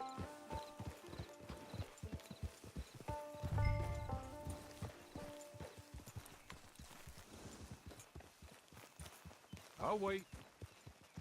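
Horse hooves clip-clop steadily in Red Dead Redemption 2 Online, a repeating walking rhythm close by under voices talking, with a brief heavier thump and a short whinny-like burst near the end.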